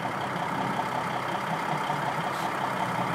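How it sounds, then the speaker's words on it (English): Truck engine with a rebuilt motor running at steady idle in snowy Manitoba weather, a constant close rumble with no speech. "Doesn't that engine sound good?"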